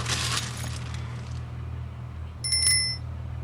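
A small bell in The Family Man film rings once near the end, a bright brief chime after a quieter opening with faint background sound.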